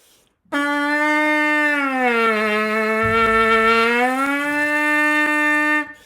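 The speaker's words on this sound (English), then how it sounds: "The next thing I do is a glissando down a fifth." A steady buzzing brass lip buzz glissando slides smoothly down a fifth and then back up, sustained for about five seconds with an even, unbroken vibration.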